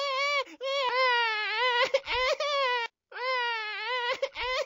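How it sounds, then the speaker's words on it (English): A small child in an animated folktale cries loudly in long wailing, harmonic sobs with gasping breaks, two sustained bouts close and alone. "the child was crying loudly and would not stop"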